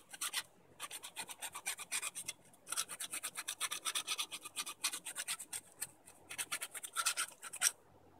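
A file rasps a burr off the end of a soft copper pipe battery terminal in quick repeated back-and-forth strokes, close and crisp, with brief pauses between runs of strokes.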